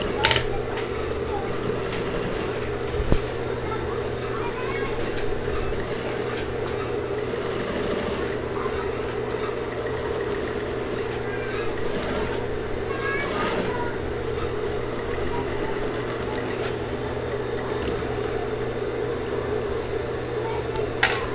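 A sewing machine runs continuously while stitching denim jeans, a steady close mechanical whir with a constant hum that persists for about twenty seconds, while someone speaks quietly over it.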